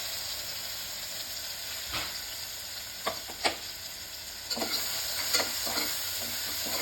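Two onions fry in hot oil with a steady, close sizzle, while a spoon stirs them now and then in short scraping bursts, with no talking.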